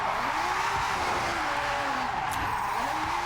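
Lamborghini Murciélago in a drift, tires squealing in long rising and falling wails over a constant engine roar, close and loud throughout.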